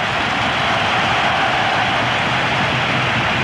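A football stadium crowd roars steadily in approval at the Spain v Scotland World Cup qualifier of February 1985, a loud, dense, unbroken wash of cheering that fills the space with no individual voices standing out.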